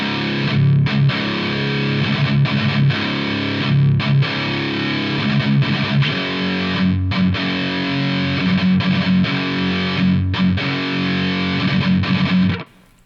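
A distorted electric guitar plays the riff from a song at full speed, a loud, steady chugging pattern with brief rhythmic gaps for about twelve seconds before cutting off.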